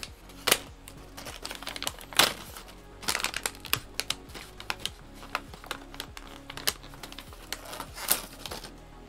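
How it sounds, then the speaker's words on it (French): Stickers being peeled from a LEGO Ninjago magazine minifigure set, heard up close as sharp crackly bursts of backing paper and plastic, separated by small ticks and handling clicks. "Je retire les autocollants."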